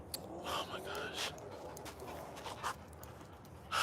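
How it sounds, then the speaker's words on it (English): A dog pants steadily and lets out a few soft whimpers, close by, while a person talks over it. "What's wrong with you, dog?"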